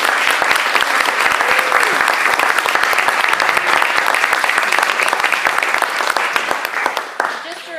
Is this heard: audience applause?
yes